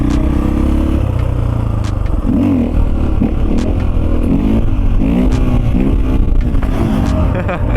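A brand-new Husqvarna FE450 dirt bike engine revs hard and close, its pitch rising and falling in repeated throttle blips over a constant loud drone.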